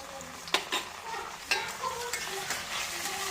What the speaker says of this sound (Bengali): জিঞ্জার গার্লিক পেস্টটা হয়ে গেল, এখানে দিয়ে দিয়েছি। এটাকে আমি কিছুক্ষণ ফ্রাই করতে থাকবো।